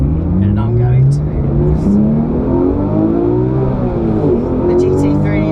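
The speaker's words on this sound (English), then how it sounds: "The GT3 is quick to get away thanks to its PDK." A Porsche 991.1 GT3 with a PDK gearbox pulls away hard, its engine note rising steadily through the revs and staying loud and close for several seconds, with a voice talking over it.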